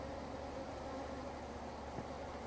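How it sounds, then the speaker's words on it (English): Honey bees buzzing around an open hive during a honey harvest, a faint, steady drone of many insects close by with no talking. "the bees will get out of the way, so I don't kill off several hundred bees just putting it straight on"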